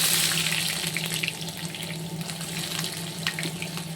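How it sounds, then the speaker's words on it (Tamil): Steady crackling sizzle of mustard seeds popping in hot oil, with a faint background hum and no talking. "பாத்திரத்தை காய வச்சு எண்ணெய் ஊற்றி வச்சுருக்கோம் கடுகு போடுவோம்"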